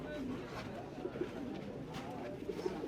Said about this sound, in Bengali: দেখতে পাচ্ছেন কবুতরগুলো এখানে সাতটা কবুতর আছে